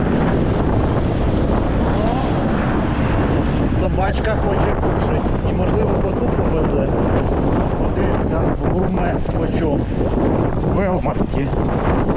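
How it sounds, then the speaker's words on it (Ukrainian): Strong wind buffets the microphone in a constant loud roar, with indistinct voices faintly audible beneath the gusting. "вітер дуже сильний"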